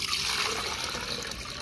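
Water pours steadily into a container, a continuous splashing trickle that stays close and even throughout with no talking.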